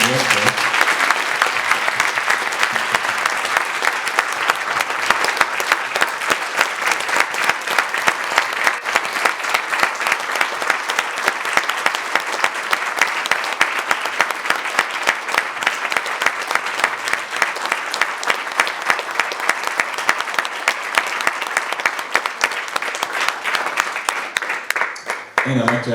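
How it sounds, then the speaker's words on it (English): A large audience gives panelists a sustained roaring round of applause after a Buddhist talk on emotional healing, dense continuous clapping that stays loud throughout with faint voices underneath. "these excellent panelists who we should give a really roaring round of applause for"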